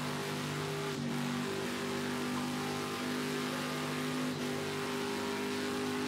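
A Sauber C9 LM race car in Project CARS 2 drones with a steady, loud engine note and a low mechanical hum, holding a constant pitch throughout with no speech.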